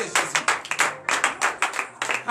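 A church congregation at a morning prayer service claps in acclamation, a dense burst of rhythmic, fairly close hand claps repeating steadily for a couple of seconds.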